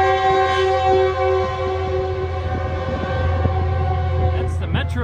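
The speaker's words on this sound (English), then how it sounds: "There goes the choo-choo train." A Metrolink train rumbles past with a sustained horn blaring over the low rolling noise of the cars, loud and close.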